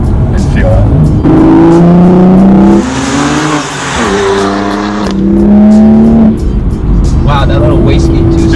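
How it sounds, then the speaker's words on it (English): A 2019 BMW M2 Competition with a 400 hp turbo engine accelerates hard in Sport Plus mode. The loud, close engine note climbs in pitch through several gear changes, with a brief dip between pulls. "Wow, that little wastegate too sounds really nice"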